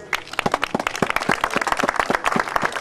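An audience applauds at a 2013 Rotary rally awards ceremony in Gherla, with distinct, fairly loud, irregular claps from a small crowd that carry on steadily without pause.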